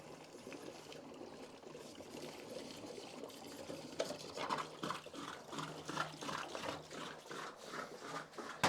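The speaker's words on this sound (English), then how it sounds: "we're going to drain the water out" Water drains from a pool filter after the plug is pulled, starting with a faint trickle and then turning into a louder, gurgling, rhythmic pour that pulses unevenly in the second half.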